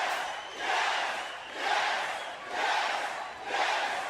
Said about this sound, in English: Getting the yes treatment here from the Sound Off crowd